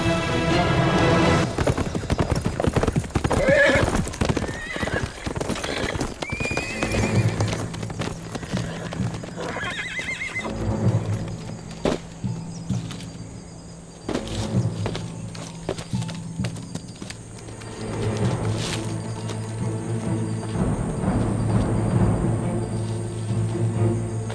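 Horse hooves clip-clopping on ground, one horse having lost a horseshoe, with repeated whinnies and neighs over a long stretch of trotting and movement, close and fairly loud, amid drama scene ambience.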